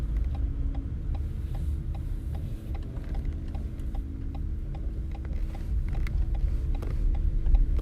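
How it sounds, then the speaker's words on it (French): A car's turn signal indicator ticks at a steady, quick rhythm inside the cabin during a driving lesson, faint beneath the low rumble of the moving car. "Donc voilà, petit clignotant à gauche."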